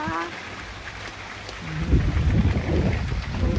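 Rain is just beginning to fall outdoors as the sky darkens. A brief voice at the start gives way to a rising, dense patter and hiss of drops that grows louder and fuller toward the end.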